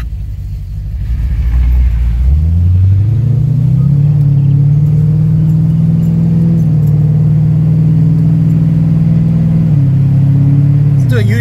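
Ford Mustang with a tuned Coyote V8 and stage 3 ghost cams, driving: a loud, deep engine drone swells after a second and holds a steady rumbling note, with a shift in pitch near the end.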